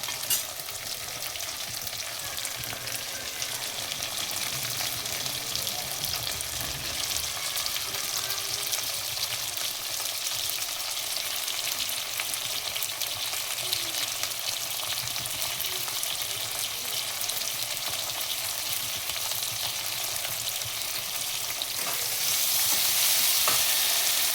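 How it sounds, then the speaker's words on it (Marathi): Onion and tomato frying in a pan, a dense, even hiss of sizzling oil running steadily close to the pan for the whole stretch, brightening slightly near the end, with no voices. "कांदा थोडासा भाजून घेतला आहे, जास्त लाल नाही करायचा आहे, मिडियमच भाजून घ्यायचं आहे"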